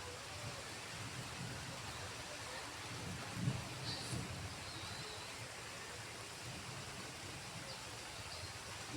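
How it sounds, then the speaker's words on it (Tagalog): Steady broadband hiss of heavy rain pouring down on a farm field, constant throughout with a faint low rumble underneath and a brief louder patch midway. "Ang lakas ng ulan."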